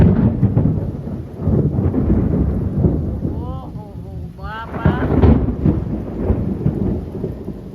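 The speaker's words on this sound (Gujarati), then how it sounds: "વીજળી ને કડાકા ભડાકા જો અવાજ આવે" Heavy rain roars steadily throughout with deep rumbling thunder, and a voice speaks briefly partway through.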